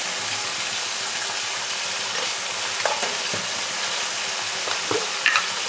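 Masala with turmeric, red chilli and garam masala fries in a pan for a village-style pea and potato curry, giving a constant hissing sizzle. Occasional scrapes and taps come from the stirring.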